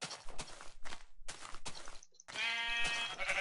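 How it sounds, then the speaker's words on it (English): Minecraft sheep bleat in a short, clear wavering cry near the end, after a run of soft, rhythmic in-game footsteps with a brief silent gap between. "That many sheep just cluttered up in this one little area."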